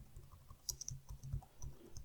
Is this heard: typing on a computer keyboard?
yes